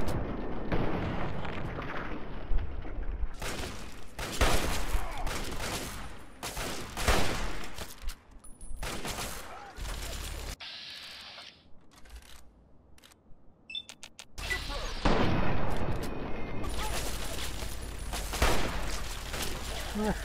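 Gunfire in Fallout 3's Operation Anchorage add-on: loud bursts of shots and explosive blasts recur across the stretch, with a quieter lull in the middle and someone talking over parts of it.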